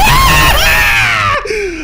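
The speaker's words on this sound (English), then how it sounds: "That was the weirdest scream I've ever made in my life." A man lets out a strange, drawn-out high-pitched scream, loud and close, wavering and bending in pitch for under two seconds before breaking off, while playing the horror game 9 Childs Street.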